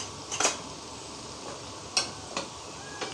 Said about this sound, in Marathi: आता परत याच्यावर मी झाकण ठेवते, कारण आतमधून कोफ्ते झाले पाहिजे